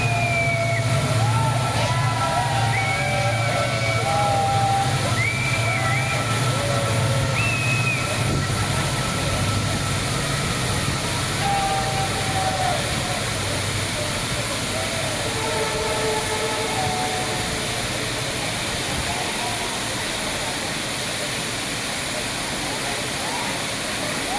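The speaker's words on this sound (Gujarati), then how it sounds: "અત્યારે ટ્રેનનો હોર્ન સંભળાઈ રહ્યો છે ને ટ્રેન આવી રહી છે." A train rumbles past near Dudhsagar waterfall in Goa under constant broadband noise while its horn sounds in several short, repeated blasts.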